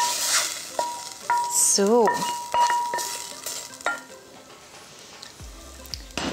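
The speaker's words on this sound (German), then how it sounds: "jetzt gebe ich den Knoblauch und den Ingwer dazu und lasse den schön mit anrösten." Garlic and ginger sautéing in sesame oil in a pot for udon noodle soup, a close sizzle mixed with stirring clatter, warbling electronic tones and a brief spoken word.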